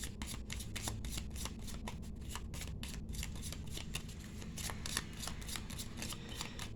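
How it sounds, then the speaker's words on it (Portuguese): A Rainbow Lenormand card deck being shuffled, a fast, continuous run of crisp riffling snaps close up with no talking. "Então, embaralhei."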